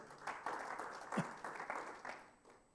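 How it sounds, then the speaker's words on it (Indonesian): A church congregation at a Sunday worship service claps together in a steady, moderately distant round of applause that carries on evenly throughout, with one louder thump near the middle. "Boleh tepuk tangan lagi."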